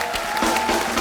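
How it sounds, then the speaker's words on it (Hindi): Studio audience applause on a Hindi comedy talk show, a brief burst of steady clapping with crowd noise, fairly loud and continuous, with no talk over it. "जोरदार तालियां"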